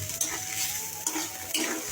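A boiled potato fries in a pan, giving a soft sizzle with a few light utensil scrapes against the pan over a brief stretch.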